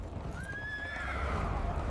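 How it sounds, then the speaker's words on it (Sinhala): A horse gives one loud, drawn-out whinny over steady background rumble, with faint hoof noise beneath, suggesting royal horses turned loose in a city. "එලාර රජුගේ මඟුල් අශ්වයෝ ටික ලිහලා දාලා ලොකු කලබලයක් කරා."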